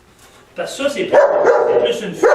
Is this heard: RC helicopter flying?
no